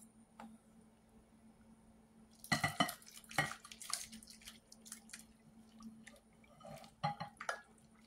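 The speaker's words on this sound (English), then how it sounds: "I'm just going to pour this hot soup directly onto the rice" Hot chicken noodle soup with ham, celery and onion is poured over rice in a bowl, giving soft, faint splashes and drips in short bursts with small clinks, close by in a quiet room.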